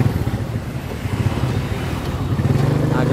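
Motorbike riding along Phạm Văn Đồng road in Saigon at rush hour, a steady low engine drone with road and traffic noise throughout, rising slightly toward the end.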